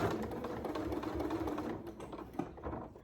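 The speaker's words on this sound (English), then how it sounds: "be able to sew just like I'm doing right now" A Janome Memory Craft MC9450 computerized sewing machine stitches quilting, running at a steady rapid mechanical pace, close and continuous for a few seconds, then slowing slightly near the end.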